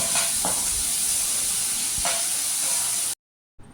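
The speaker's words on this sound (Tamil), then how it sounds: "தக்காளி எல்லாத்தையும் அதில் போட்டு வதக்கிக்கலாங்க." Tomatoes sautéing in a pan for a bread veg omelette, a steady close sizzle with a few brief stirring scrapes, cutting out near the end.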